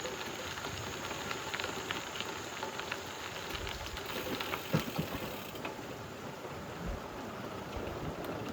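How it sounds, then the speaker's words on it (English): Steady rain falling on a countryside trail beside a bluff, a dense continuous patter with a faint low rumble underneath and an occasional louder drop, no voices. "The rain's picked up"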